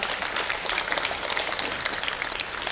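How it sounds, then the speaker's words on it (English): A hall full of students and guests at a school Founders Day celebration breaks into sustained, dense clapping, loud and even throughout with no voices standing out. "Let's welcome them with a huge round of applause"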